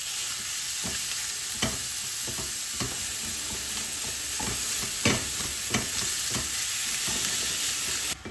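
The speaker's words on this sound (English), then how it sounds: "you're gonna add half a pound of ground meat" Half a pound of ground meat frying with aromatics in a pan for mapo tofu, a steady close sizzle broken by repeated sharp scrapes and clacks of a utensil breaking up and stirring the meat, with no talking.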